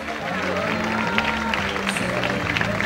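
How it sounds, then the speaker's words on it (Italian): A crowd claps and cheers at an outdoor chili-eating championship in Diamante, Italy, sustained applause beneath an announcer's amplified voice. "grande applauso"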